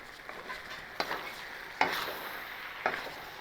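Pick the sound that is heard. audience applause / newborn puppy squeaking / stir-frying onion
stir-frying onion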